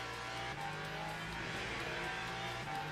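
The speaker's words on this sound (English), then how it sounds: "just tuned in to watch him have a snap of oversteer" A Lexus race car in Le Mans Ultimate snaps into oversteer during a 6 Hours of COTA event. The engine drones continuously with a faint tire squeal, heard at low level with no speech.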